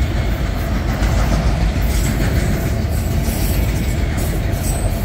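A Union Pacific freight train with auto rack cars rolls past close by, a loud, continuous rumble with steady clickety-clack of wheels and faint squeal, no voices.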